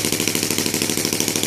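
A gasoline Saito R200 radial model aircraft engine with CH ignition runs steadily at about 3000 RPM, a loud, close, continuous buzzing drone with rapid even pulses and no voices.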